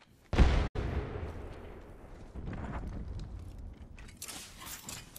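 Grenade detonates in Apex Legends, a sharp loud blast near the start that cuts off abruptly, followed by a lingering rumble and scattered game noise fading into the background.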